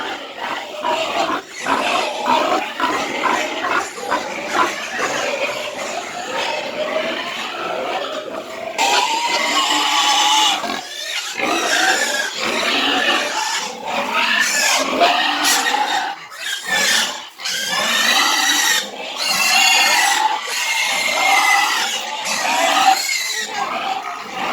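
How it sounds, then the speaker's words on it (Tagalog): Pigs on a small family farm squeal and grunt loudly and continuously at feeding time, a dense, close chorus of overlapping high cries and snorts. "At kay manglaog si Re sa iyang mga baboy"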